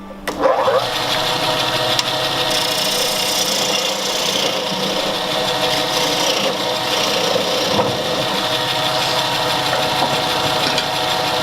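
A skew gouge cuts into a wooden bowl spinning on a wood lathe, giving a continuous, loud scraping and rasping drone over the motor hum that holds steady for the whole stretch, without speech.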